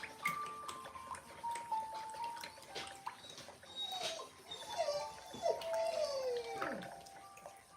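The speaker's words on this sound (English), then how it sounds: "Dog's whining." A dog whines in high, wavering cries that rise and fall several times, over a steady background of water and faint scraping from a whetstone being flattened on a plate in water.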